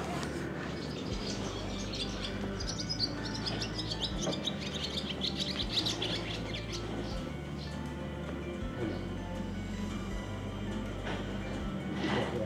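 Small birds chirp and tweet in quick bursts at a distance, over a steady low rumble of background noise.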